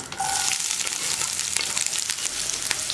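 Onion slices and slit green chilli frying with mustard seeds in hot oil for a Kerala beetroot stir-fry, giving a steady, close, loud sizzle with light crackle throughout and no talking.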